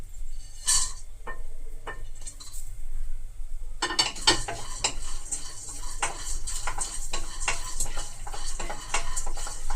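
Peanuts and spices fry in a pan while a spoon stirs them, quiet scattered taps at first, then steady scraping and clinking against the pan over a soft sizzle.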